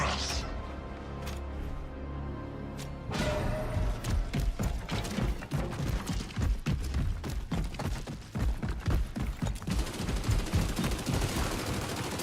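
Video game gunfire with rapid bursts of shots and mechanical clatter, loud and close, growing denser after a quieter opening as the firing keeps up in repeated volleys.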